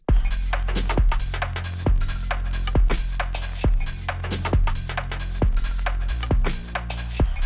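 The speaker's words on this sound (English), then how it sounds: "adding a soft clipper on the drums to make them sound like this" A steady, punchy drum beat run through a soft clipper, with thick, gritty, saturated low end and crisp hits repeating evenly throughout, in a UK garage style.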